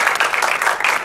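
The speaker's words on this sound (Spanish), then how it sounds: "uma salva de palmas para ele" Audience applause at a film debate, a dense, steady patter of many hands clapping close by.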